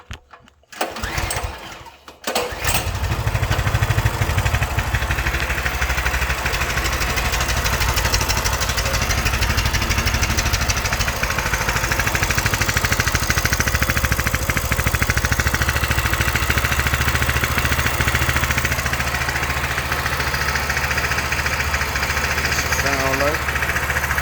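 A Coleman CT200U-A mini bike engine with its muffler and exhaust removed starts after a few brief cranking bursts, then runs with a loud, raw, steady idle close by.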